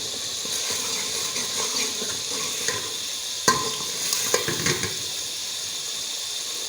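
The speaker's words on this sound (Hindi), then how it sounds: "इसे हम 5 मिनट तक पकाएंगे।" Chopped tinde (round gourd) cooks in a pan for a Pakistani salan, giving a steady soft sizzle and hiss with a few scraping stirs and light clinks partway through.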